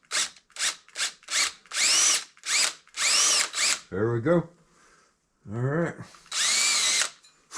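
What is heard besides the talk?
power drill boring into a water filter cartridge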